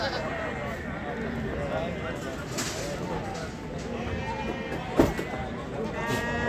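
Goats bleat at a busy outdoor goat market, several wavering cries near and farther off over a dense crowd of talking voices and shuffling.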